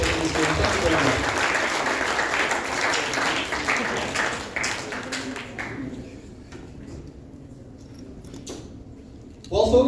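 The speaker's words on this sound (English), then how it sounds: "why don't you give everyone here a big round of applause just for participating in this game" A book launch audience gives a round of applause: dense clapping near the start thins and fades into scattered claps, then sharp sounds return briefly at the end, with some voices underneath.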